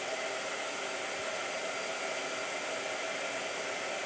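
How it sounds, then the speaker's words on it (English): Blow dryer running steadily, a constant broadband whoosh throughout, fairly close and alone. "Blow dryer."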